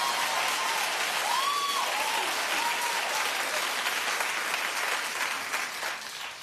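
A studio audience at The Wendy Williams Show breaks into loud, sustained applause and cheering that fills the room, holding steady for several seconds before tapering slightly at the end.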